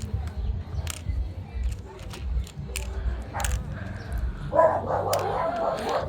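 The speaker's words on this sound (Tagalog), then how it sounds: "ang ingay na naman ng mga aso." Dogs bark in a few loud, sharp bursts over a steady background rumble, with some indistinct voices nearby.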